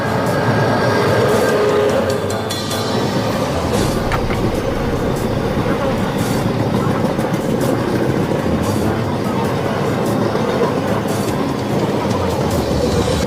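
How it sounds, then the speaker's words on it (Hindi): On the Konkan railway, a full AC Rajdhani Express rushes past, a loud, continuous close rumble of wheels and carriages with steady rhythmic clatter and occasional squeals throughout. "और अभी जो ट्रेन गई वो थी फुल एसी राजधानी एक्सप्रेस।"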